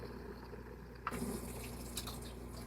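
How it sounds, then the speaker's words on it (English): A little water is poured into the bottom of a baking pan holding stuffed bell peppers, a brief splashing trickle that starts abruptly partway through and continues softly to the end. "I'm going to put just a tiny bit of water on the bottom of this pan."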